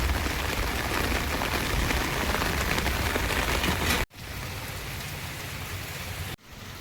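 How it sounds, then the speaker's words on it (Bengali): Steady rain falling on surfaces outdoors during a monsoon downpour, a loud continuous wash that runs unbroken, cuts off abruptly at about four seconds and resumes briefly. "বৃষ্টি আস্তে আস্তে পড়ছে কিন্তু ভিজে যাওয়ার মতন পড়ছে"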